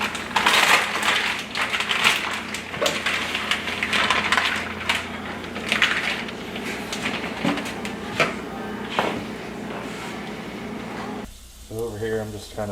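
A knife scrapes and slices fat from processed venison on a cutting surface, producing irregular rasping, crunchy strokes up close, with a voice speaking quietly in between.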